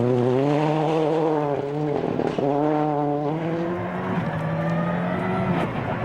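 Marco Martin's Ford rally car, its gearbox just repaired, charges through a stage of the 2003 Rally of Turkey, engine loud and close, revving up and down through quick gear changes.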